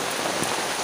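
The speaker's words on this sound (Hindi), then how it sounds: "इतना तेज़ हवा चल रहा है, बहुत तेज़ से बारिश भी हो रही है" Steady heavy rain pattering hard on a surface, a dense continuous hiss close by.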